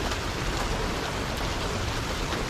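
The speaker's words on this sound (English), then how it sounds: "As you can see, it's raining." Steady rain falls outside in July, a dense, even hiss of drops with no pauses, heard up close and fairly loud.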